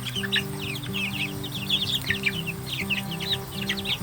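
Month-old Betong chicks cluck and peep continuously in a dense overlapping chorus, with a steady low hum running underneath.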